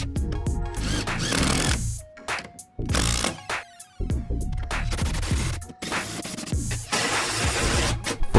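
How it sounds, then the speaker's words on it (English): Power drill driving screws into the bottom hinge of a wooden gate, several bursts of whirring and grinding separated by brief pauses, close and loud. "Now I'm just making sure that the gate opens correctly and screwing down the bottom hinge."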